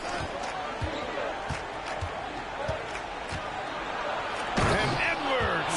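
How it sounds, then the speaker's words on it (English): Basketball action in the NBA 2K video game: a few dribble bounces in a steady rhythm, then a louder slam of a dunk near the end, under constant commentary and faint crowd noise. "And Edwards slams it in"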